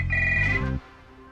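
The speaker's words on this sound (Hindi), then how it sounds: "फोन बज रहा है।" A telephone ringtone in a scene from the Hindi comedy film Kya Cool Hai Hum plays once in a short melodic burst, loud and close, then cuts off abruptly with no talk over it.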